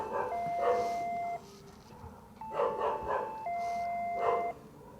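An apartment doorbell chimes in a reporter's stakeout scene, sounding two-tone electronic ding-dong rings three times with short gaps, fairly clear over a low background hum.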